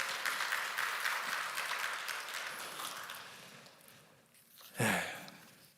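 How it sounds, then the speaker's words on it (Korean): A church congregation claps together, loud at first and thinning gradually into scattered claps, then a sharp sniff or breath noise near the end. "잘 선교달라고 한번 박수로 응원해 드립니다."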